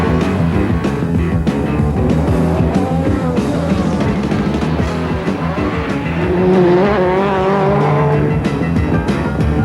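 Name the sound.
MG Metro 6R4 rallycross car racing at Brands Hatch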